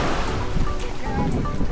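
Surf breaking on the shore of Gold Harbour, South Georgia, a continuous loud wash of rough, windy wave noise with small boats nearby.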